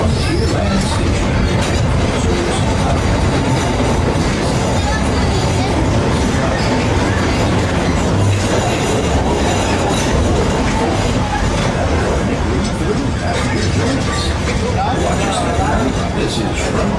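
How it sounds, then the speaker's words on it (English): A Walt Disney World Railroad train rumbles and clatters as it pulls into Frontierland Station, a loud continuous on-board roar with a crowd murmuring beneath it. "Please remain seated until the train comes to a full and complete stop"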